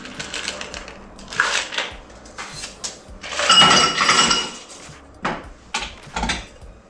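Cognac Sour cocktail shaken with ice, rattling in bursts of irregular, close clattering with short pauses between, no talking.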